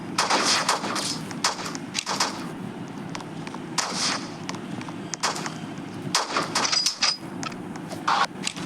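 Gunfire in the Roblox video game, with repeated sharp shots in irregular bursts and a few rapid volleys, loud and close, with no talking.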